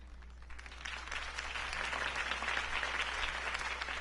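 A crowd applauds after a Harvey Dent campaign speech, the clapping rising quickly into a full, sustained roar of many hands over a low steady hum.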